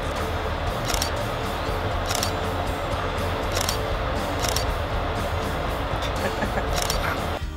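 Camera shutter clicks sound as a selfie is taken, with several sharp, brief snaps spaced about a second apart over a dense, busy background.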